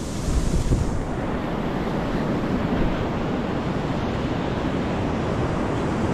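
Sea waves wash onto a sandy New Zealand beach in a steady, loud roar of surf with wind buffeting the microphone, continuous throughout with no talking.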